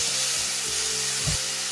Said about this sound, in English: And now while the tomatoes are getting cooked